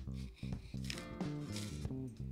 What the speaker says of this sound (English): I'm just gonna peel them here.